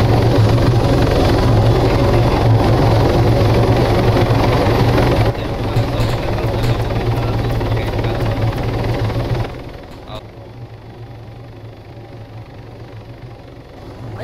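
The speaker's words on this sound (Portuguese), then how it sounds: "Esse helicóptero não vai sair dali não," A helicopter in Arma 3 roars with a loud, steady rotor thrum and engine drone, stepping down in volume twice as it seems to move off or change, with no voices.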